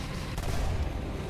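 Tank cannon shots in War Thunder, in a football-style game mode, boom over a dense, noisy battlefield din, with one sharper blast standing out briefly.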